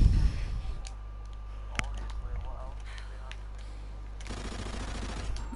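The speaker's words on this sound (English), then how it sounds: "Now I'm getting shot at." Gunfire in a first-person shooter game sounds in a burst with a sharp shot near the two-second mark, then dense rattling near the end, all under a steady low engine-like drone while players talk.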